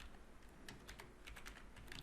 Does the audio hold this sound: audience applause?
no